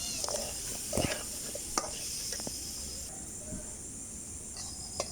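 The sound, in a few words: vegetables cooking and sizzling in a pan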